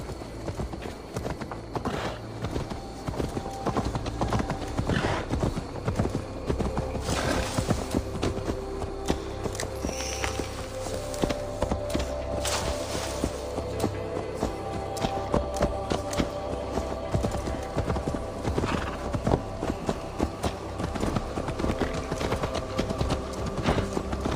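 Horse hooves clip-clopping at a steady walking rhythm in Assassin's Creed Valhalla, close and continuous beneath a bed of game ambience and background music.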